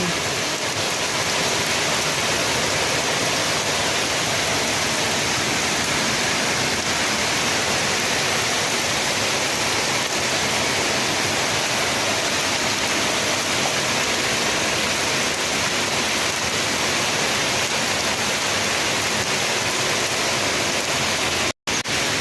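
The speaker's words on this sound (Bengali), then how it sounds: "আজ সকাল থেকে প্রচণ্ড বৃষ্টি" Heavy rain pouring down in a morning downpour, a dense, loud, unbroken hiss of water that holds steady throughout with no gaps.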